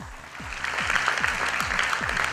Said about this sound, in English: I want to hear that applause sound throughout